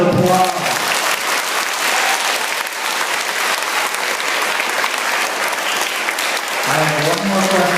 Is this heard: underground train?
no